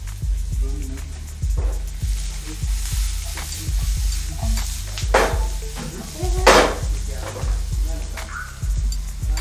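Shredded cabbage and leeks sizzle and crackle in a hot pan as they are stir-fried for a vegan tofu dish. The frying is loud and close, with stirring scrapes and a low hum underneath.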